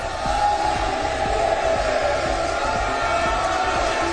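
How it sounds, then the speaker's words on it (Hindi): A packed parliament chamber erupts in continuous loud crowd noise, with applause and cheering from lawmakers, and steady rhythmic thumping that keeps going without a break. "और पूरा सदन तालियों की गड़गड़ाहट से गूंजने लगा।"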